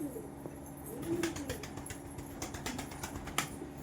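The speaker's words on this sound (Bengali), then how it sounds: "এই পায়রা দুটো ব্রিডিং মুডে আছে, পুরো একদম টপ কোয়ালিটি অন্ধ্রা পেয়ার আছে" A breeding pair of top-quality Andhra pigeons coos nearby, low throaty calls running under scattered clicks and light rustling.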